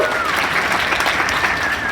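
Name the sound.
audience applause at a puppet slam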